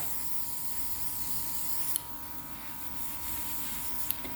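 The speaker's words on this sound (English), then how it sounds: "I'm going to switch my machine on, and I am literally going to spray over" A quiet, steady airbrush hiss running continuously as nail paint is sprayed over a stencil, with a couple of small clicks partway through.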